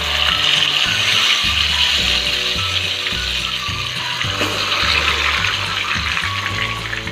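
Marinated pearl spot fish fries in hot coconut oil, a dense continuous sizzle that holds steady throughout beneath light background music.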